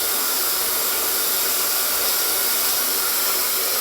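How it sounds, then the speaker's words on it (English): A hair dryer blows steadily and close while hair is blow-dried over a round brush, a loud, unbroken airy roar with no talk. "we're going to blow dry it back, and we're going to turn and round off the brush to give it height and to give it volume."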